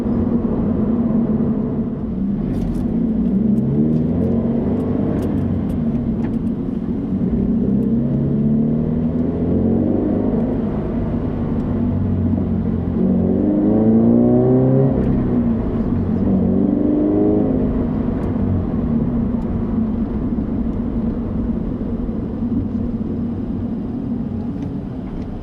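A BRZ/FRS/GT86 sports car fitted with a Borla 11839 exhaust, heard from inside the cabin while driving: a steady, fairly loud engine and exhaust drone with gently rising and falling tones as the revs change, and no voices.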